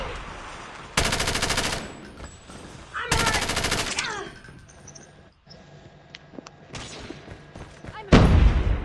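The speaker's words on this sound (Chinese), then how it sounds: "有人拿机枪。" Machine gun fire in an online shooter game, including a search-and-destroy match, comes as two long, loud automatic bursts, then scattered shots and a final heavy burst, with a player talking in between.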